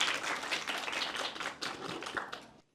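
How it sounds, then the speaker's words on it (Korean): Audience at a Dongdaemun children's policy proposal contest clapping steadily, a dense patter of many hands that holds for over two seconds then stops abruptly. "여러분 박수로 맞아주십시오"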